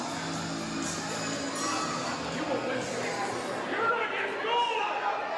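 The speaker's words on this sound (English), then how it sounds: "the crowd super happy to see Shawn Kemp here in the ring" A wrestling crowd cheers and chatters for Shawn Kemp in the ring, a steady, moderately distant roar of voices with a few louder swells near the end.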